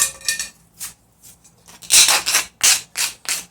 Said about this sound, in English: I'm just going to take my handy dandy rasp here, just clean up the edge